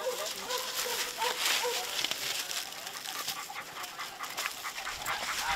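Hunting hounds pant rapidly and close by, with occasional whimpers and whines over a busy outdoor background.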